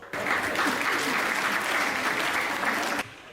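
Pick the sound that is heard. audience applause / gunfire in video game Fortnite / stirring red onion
audience applause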